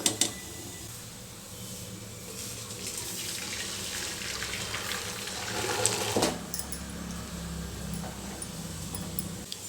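Water poured off freshly boiled toor dal, a continuous splashing stream running for several seconds before it abruptly stops, followed by faint trickling.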